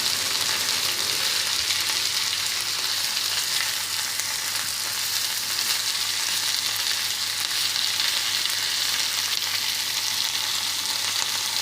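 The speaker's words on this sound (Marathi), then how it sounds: "आता यावर चिरलेला टोमॅटो, कांदा, मिरची आणि कोथिंबीर टाका." Chopped tomato, onion, chili and coriander frying on an omelette in a pan, a steady loud hiss of sizzling oil that continues evenly throughout with no talking.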